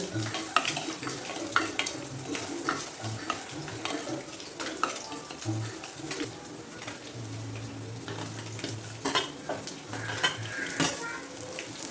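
Chopped garlic, ginger and curry leaves sautéing in a pan, a continuous close sizzle broken by frequent clinks and scrapes of a spoon against the pan.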